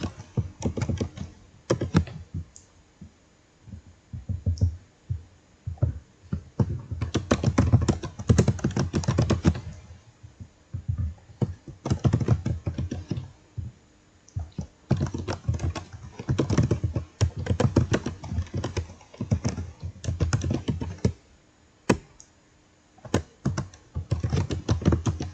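Close, clattering keystrokes of a password typed on a computer keyboard while installing Moodle on Ubuntu Server 20.04, coming in quick bursts with short pauses between them.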